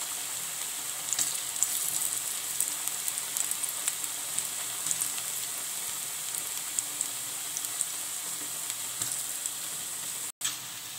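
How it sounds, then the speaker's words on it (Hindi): Potato, chilli and mint pakoras fry in a hot pan of oil, giving a steady bright sizzle and crackle that runs throughout with no talk. "पैन हमारा अच्छे से गर्म हो गया है दोस्तों, अब ये हम फ्राई कर लेते हैं सारे पकौड़े तरीके से डाल डाल के।"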